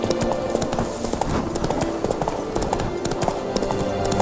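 Horse hooves clip-clop in a steady trotting rhythm inside The Witcher 3: Wild Hunt, continuous and fairly loud against game background sound.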